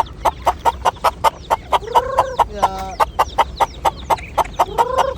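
Several chickens cluck in a quick, steady rhythm of short sharp calls close by, with a brief voice heard once.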